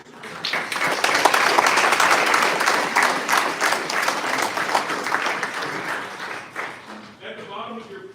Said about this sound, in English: Please join me in a round of applause to thank Representative Feenstra for this support.